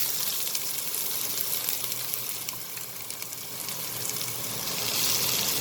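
Chopped onions sauté in two tablespoons of hot oil for spiced bitter gourd, giving a continuous broadband sizzle that holds at moderate level throughout with faint crackles and no voices.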